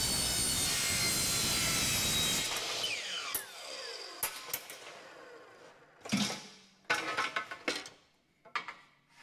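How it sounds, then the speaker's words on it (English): An aluminum solar panel mounting rail is cut on a carbide-tipped saw blade, giving a loud, steady, high-pitched screeching whine that winds down after about two seconds, then a series of sharp clanks and rattles as the rail and offcut are handled. "So being aluminum, you can cut this on a regular carbide saw blade."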